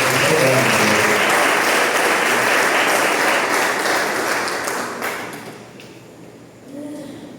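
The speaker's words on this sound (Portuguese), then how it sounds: "Dá uma salva de palmas para Jesus" A church congregation gives loud, sustained applause that fills the room for about five seconds, then fades away into quieter murmurs.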